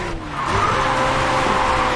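A car drifts in the Racing Master video game, its tires skidding in a loud sustained squeal with engine roar that starts after a brief dip and holds steady to the end, without talk.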